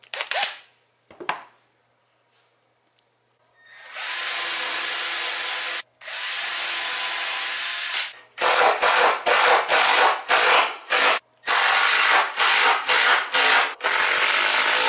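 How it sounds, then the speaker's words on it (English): A hand-held power drill boring holes into wood: two long whirring runs, then a rapid series of short bursts with brief pauses between them, loud and close. "So now I'm going to go drill a whole bunch of holes"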